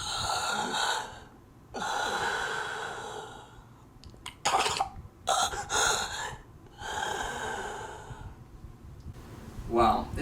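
Several loud, deliberate breaths close to the mic, each a broad airy rush of inhaling and exhaling with short pauses between, demonstrating the breathing a brain's medulla controls in a student psychology project.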